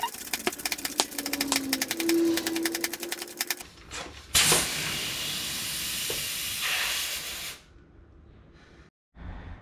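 Air hissing into a tubeless mountain bike tire with sealant, the valve core removed, from an electric pump or compressor: a dense, steady broadband rush with bursts and clicks, stopping abruptly near the end.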